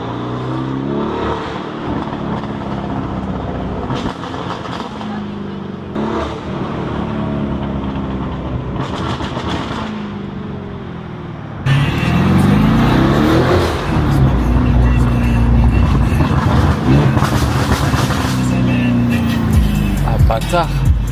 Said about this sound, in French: Vous allez entendre le Urus, il est super violent.